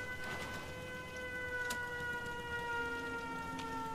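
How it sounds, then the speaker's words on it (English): An alarm siren wired into a security system in the video game Fallout 4 sounds as a steady, sustained electronic tone with layered pitches, fairly quiet and distant, broken only by a couple of brief clicks. "Because the siren's on, it's exactly one power going through and it powers the door."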